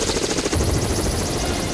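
Rescue helicopter hovering close by in a mountain setting while transporting a patient, its rotor a loud, steady broadband roar with rhythmic blade thumping throughout.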